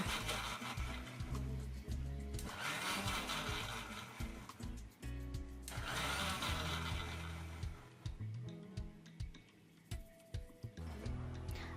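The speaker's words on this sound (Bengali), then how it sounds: "আমরা ব্লেন্ডারটাকে বারবার ছেড়ে এবং বন্ধ করে করে ব্লেন্ড করব" A kitchen blender pulses raw mango mash ingredients with cold water, its motor whirring in repeated on-off bursts of a couple of seconds each, with quieter ticking and clattering between runs.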